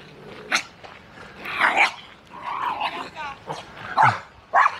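A coypu makes short bark-like yaps and grunting calls in bursts close by outdoors in the evening, while a person talks in between the calls.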